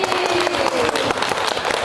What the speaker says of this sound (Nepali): यतिखेर त हामी ताली बजाउने छौँ।